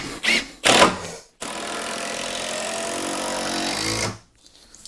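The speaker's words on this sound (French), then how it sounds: "c'est dans ces situations-là que je suis content de trouver la visseuse à choc" An impact driver drives screws into floor bracing, a close, loud, steady rattling buzz held for about three seconds, preceded by two short bursts and cut off sharply.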